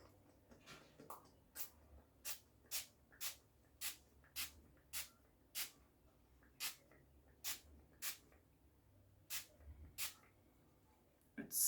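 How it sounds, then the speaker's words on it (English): A perfume spray bottle is spritzed over and over, about a dozen short, crisp hissing puffs at a fairly even pace, close but soft, with quiet pauses between each burst. "I'm just going to give this a spritz."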